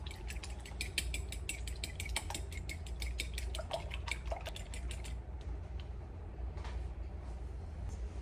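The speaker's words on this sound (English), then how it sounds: "I'm gonna start with my eggs. And just beat them." Eggs for meatballs are beaten briskly in a bowl, giving a fast, steady run of light clinking taps that stops after about five seconds. Only a few scattered clicks follow, and no one speaks.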